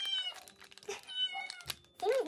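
Impatient cat meowing for food while a meal of beef cat food is prepared, several insistent meows close by, mixed with a person talking and some rustling.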